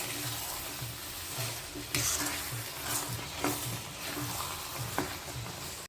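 Andhra-style spicy chicken fry with green chillies sizzles in a pan while being stirred, with a steady frying hiss and repeated scraping strokes of the spoon up close.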